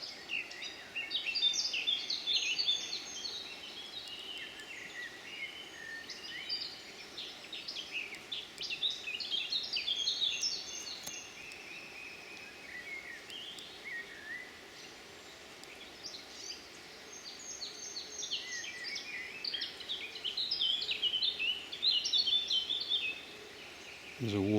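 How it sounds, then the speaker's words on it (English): Warbler song rises repeatedly in a Yorkshire woodland in May, with bright high phrases in bursts at the start, middle and end over a soft, quiet background. "There's a warbler there."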